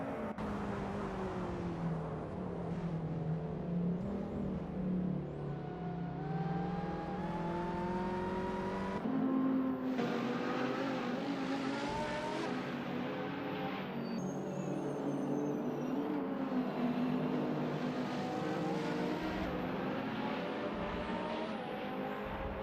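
Racing cars in a video game, including a 2013 Ford Focus ST, with engines that whine and rise in pitch under acceleration, drop at shifts and overlap one another in a steady, close, continuous roar.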